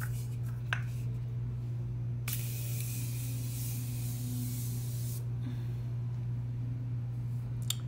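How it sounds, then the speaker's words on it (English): Morphe Continuous Setting Spray misted onto a face: one sustained hissing spray burst of about three seconds, close and fairly loud over a steady low room hum, with a few small clicks before it. "I'm going to go ahead and use the new, it's not the new, it's my new Morphe Continuous Setting Spray that looks like this"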